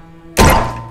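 A single loud, punchy gunshot goes off in the video game Crab Game, a sharp thunk-like blast that starts abruptly and then decays quickly.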